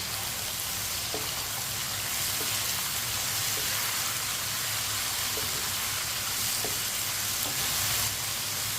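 Tomato and onion mixture for aloo bhindi frying in a pan, a steady close sizzle with a few faint stirring clicks and no talking.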